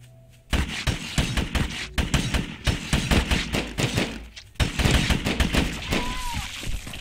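A combat pistol fires in the video game Grav Reborn, loud rapid shots in dense bursts with brief pauses, close and punchy.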